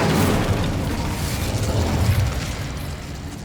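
In the Hogwarts Legacy video game, the Incendio fire spell is cast with a loud, steady roaring whoosh of flame that fills the whole moment without a break and carries no talk.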